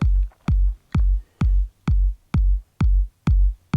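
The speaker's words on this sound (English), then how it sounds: "which is a very thick kick that has a lot of bottom end." A deep, heavy kick drum hits eight times at a steady pulse, each thump booming with thick low end and a short tail, with nothing else playing.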